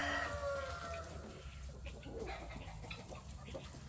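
Chickens cluck together in a busy barnyard chorus close by, with a brief high crowing-like call near the start.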